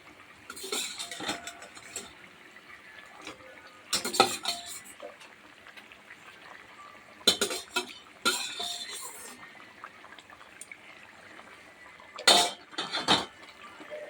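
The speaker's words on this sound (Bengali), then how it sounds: "খুন্তি দিয়ে নেড়ে দিই" A metal spatula scrapes and clinks against a pan of bubbling fish curry in bursts of stirring, separated by quieter stretches where the simmering continues at low level.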